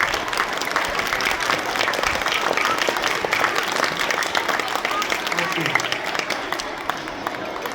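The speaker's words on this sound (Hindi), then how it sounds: "जोरदार तालियां बजाएं" Students at a Kendriya Vidyalaya school's Independence Day celebration in Panagarh clap hard together, a sustained, crackling wash of many hands that carries on evenly for several seconds with some voices mixed in.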